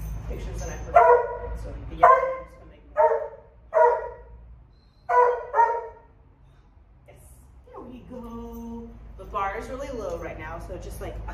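A hound dog barks in short, loud bursts about five times in steady rhythm, then gives a lower whining yelp and a drawn-out howl near the end, all close by indoors.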